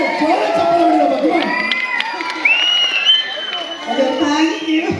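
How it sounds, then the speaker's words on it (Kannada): A crowd at a pre-release event for the Kannada film Ravike Prasanga cheers, whoops and shouts in a loud, continuous roar, with excited high voices and whistle-like cries rising above it and only faint clapping. "ಚಪ್ಪಾಳೆ ಹೊಡಿಬೇಕು."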